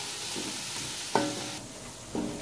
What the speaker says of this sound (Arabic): هلا بقى نحط الكزبره اليابسه معلقه كبيره كمان خليها تتحمص لبين ما الثوم شوي ياخذ لون ذهبي